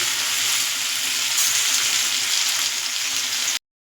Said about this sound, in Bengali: গ্যাসটাকে একটু বাড়িয়ে আমি ভাজা করে নেব। ভাজা হয়ে আসলে দেখুন ভালোই ভাজা হয়ে গেছে আলুটা।